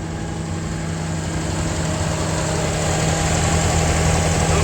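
A 1959 Edsel Ranger's engine running steadily with a deep, rumbling idle and a constant low drone close by, growing slightly louder toward the end, with no voices.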